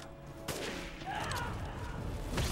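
Gunfire in the survival horror game Resident Evil Village: a sharp shot rings out, followed by further crackling blasts and a rumbling boom, dense and loud against a murky background.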